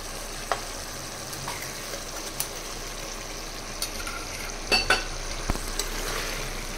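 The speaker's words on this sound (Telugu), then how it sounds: "ఇప్పుడు మనము పచ్చి ధనియాల ముద్ద నూరుకున్నాం కదండి, అది వేసేద్దాం" Green coriander paste stirred into country chicken curry frying in a pan, a steady close sizzle with a few sharp scrapes and clinks of the spoon against the pot.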